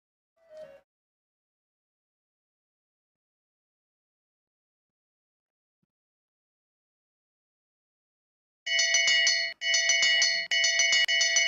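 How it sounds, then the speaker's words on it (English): A bell rings repeatedly for the final lap of a women's 1500 m long track speed skating race, loud bright clangs in several bursts near the end after a long quiet stretch. "So we've got the bell lap"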